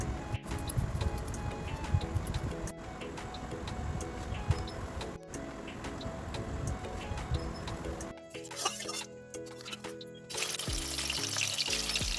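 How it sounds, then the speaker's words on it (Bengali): Cut and washed fish pieces frying in a pan on a home stove, giving a steady close crackling sizzle for most of the stretch before the texture thins and changes near the end. "মাছটা আমার কেটে ধুয়ে ধুয়ে ভাজা বসিয়ে দিয়েছি"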